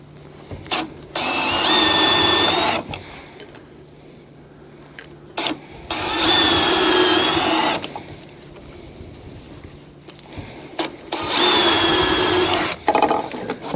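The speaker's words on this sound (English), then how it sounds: "I'm gonna just drill out with a smaller pilot bit" A power drill with a small pilot bit whines in three separate bursts of about two seconds each, drilling pilot holes, with quiet handling noises and pauses between them.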